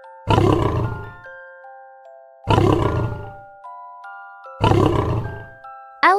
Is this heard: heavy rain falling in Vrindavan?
no